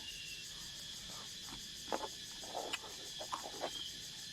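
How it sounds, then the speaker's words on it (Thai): Cicadas and other insects drone in a steady, high, shimmering chorus on a rural village evening in Laos. A few faint, brief calls rise over the continuous buzz, with no voices present. "นี่แหละบรรยากาศบ้านเฮาเสียงจักจั่นเสียงแมงอีฮ้อง เสียงนกเสียงหงส์"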